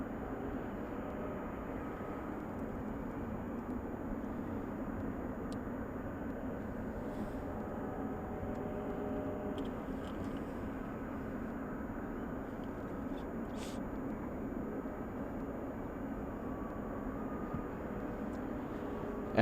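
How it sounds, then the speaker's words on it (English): A FedEx Boeing 777 runs its jet engines at Anchorage Ted Stevens International Airport in freezing weather, giving a steady distant roar and hum that holds evenly throughout. "this is the FedEx 777 that we were hearing start up."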